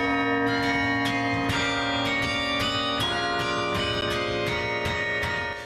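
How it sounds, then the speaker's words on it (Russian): Carillon bells at Peter and Paul Cathedral ring out in a series of struck notes about every half second, with long overlapping resonant tones sustaining beneath each strike, clear and fairly distant with no voices. "удивительный инструмент, в котором клавиатура соединена с колоколами"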